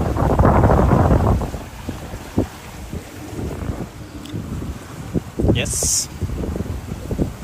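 Gusty wind roars across the microphone while sailing in November, loudest at the start, with a person speaking briefly over the rumble.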